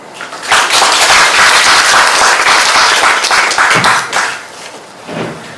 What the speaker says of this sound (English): So now let's warmly applaud for her excellent speech.